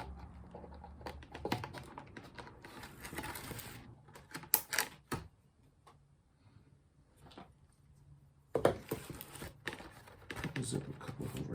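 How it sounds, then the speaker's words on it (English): Zip ties are pulled tight around wires on an RC car, each giving a quick ratcheting zip in short bursts separated by quieter pauses, close by, with some talking around them. "Zip this wire."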